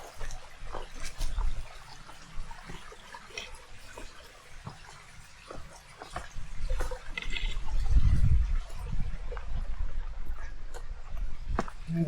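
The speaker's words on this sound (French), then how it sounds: "Regarde le joli ruisseau." A small mountain stream babbles and trickles beside a steep rocky footpath, with soft splashing and occasional footsteps or knocks, moderately close and unbroken by speech.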